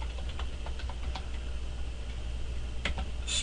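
Several quick, light keystrokes tap on a computer keyboard at an irregular pace over a steady low hum, close and quiet, with no voices.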